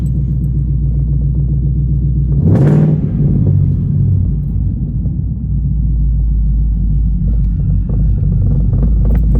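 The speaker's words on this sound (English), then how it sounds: "as soon as you give it a little rev" A cammed 2014 Mustang GT 5.0 V8 sits at a loud, lumpy idle, gets one quick sharp blip of the throttle, and drops back to its choppy idle, recorded close up and cold.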